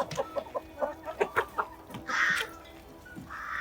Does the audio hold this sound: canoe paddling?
no